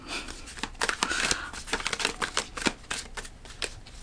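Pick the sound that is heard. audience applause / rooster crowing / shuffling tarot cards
shuffling tarot cards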